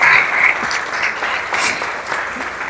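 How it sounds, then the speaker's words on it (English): A convention audience at the Muslim Charities Convention gives sustained applause, a continuous wash of clapping that swells and eases slightly over a few seconds. "Okay, a round of applause for Dr."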